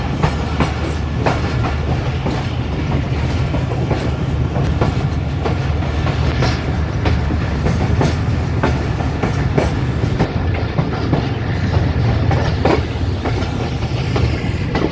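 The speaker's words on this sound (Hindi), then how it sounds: "हनोट रेलवे स्टेशन से ट्रेन तुरंत पास हो रही है।" The Bolan Mail Express rolls through Hanot railway station without stopping, its wheels clattering in a loud, steady clickety-clack with faint hiss and squeal over a continuous rumble that carries on throughout, with no one talking.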